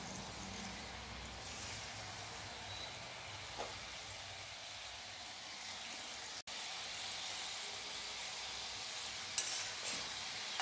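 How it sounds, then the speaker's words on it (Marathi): Kadboli dough rings fry in hot oil in a wok over a low gas flame, giving a steady, quiet, even sizzle that runs unbroken throughout, with no talking. "कढईमध्ये जेवढ्या कडबोळ्या मावतील तेवढ्या हळूहळू सोडायच्या आहेत"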